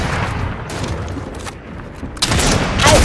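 Gunfire in a Fortnite match: loud, dense bursts of rapid shots and booms crowd together, easing briefly before a harsher volley surges back near the end.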